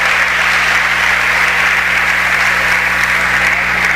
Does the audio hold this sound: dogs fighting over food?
no